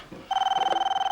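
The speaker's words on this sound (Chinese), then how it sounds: "那这个响了，电话又响了。" A telephone rings with a fast, trilling electronic tone that starts abruptly and continues for nearly a second, loud and clear with no other sound around it.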